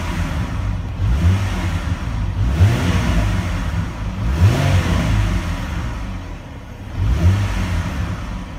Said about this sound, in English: Let's see if I step on the accelerator.